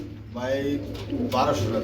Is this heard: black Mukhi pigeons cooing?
yes